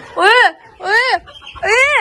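Aseel chickens and roosters cluck loudly and close in three long, strained calls with short gaps between them, in a mud coop.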